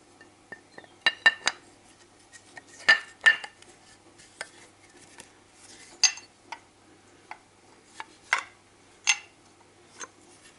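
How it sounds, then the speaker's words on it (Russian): A front-wheel-drive VAZ car's oil pump is put together by hand, with its housing and cover fitted, producing scattered close metallic clinks, taps and light knocks against a quiet background with no talk. "собрать масляный насос"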